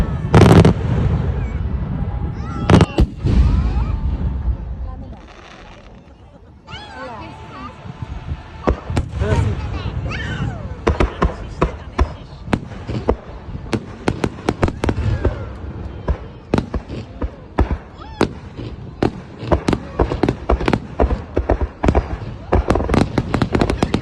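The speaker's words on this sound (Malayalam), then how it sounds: "ഏകദേശം 2 മണിക്കൂർ നീണ്ടു നിന്നൊരു വെടിക്കെട്ടാണ് കേട്ടോ." Fireworks burst at a Japanese summer hanabi festival, with booming launches and a dense run of sharp cracks and pops that grows busier after a brief lull. Crowd voices and talk mix in throughout.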